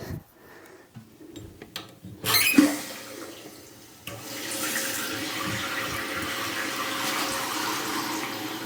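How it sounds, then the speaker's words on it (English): Mansfield toilet after a flush valve replacement, with water rushing into the tank: faint clicks and a brief gush, then a steady, moderately loud hiss of filling water for the last several seconds, with no speech. "now it's time to turn on the water and see if we have any leaks"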